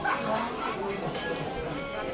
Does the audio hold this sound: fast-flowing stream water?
no